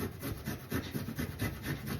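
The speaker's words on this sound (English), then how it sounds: "If you just grate that ginger off, it's great, mate." Ginger being grated on a small Tupperware mini grater, a steady close rasping scrape repeating in quick even strokes, fairly quiet throughout.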